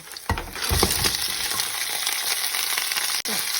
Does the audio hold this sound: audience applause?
no